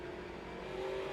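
Race car engines from a 1987-season NASCAR series at Richmond drone steadily and loudly as a close, continuous roar, with no voices.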